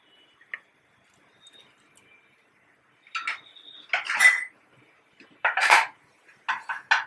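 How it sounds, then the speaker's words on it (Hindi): Potatoes and peas are dropped into a cooking pot for Bengali bhoger khichuri, giving a few short clattering knocks and metallic clinks of pot and spoon between quiet gaps. "अब इसमें आलू डाल देंगे। गोभी हम ऊपर से डालेंगे, मटर डाल देंगे"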